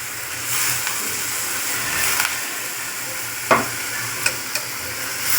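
Ivy gourd (tondli) stir-fried in a pan for a masoor dal vegetable dish, giving a steady close sizzle with scraping stirring and a few sharp clinks of the utensil against the pan, no talking.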